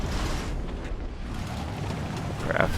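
Distant tank gunfire and explosions from War Thunder ground battles come through as low, rumbling booms under a dull, constant battlefield roar, with no talk.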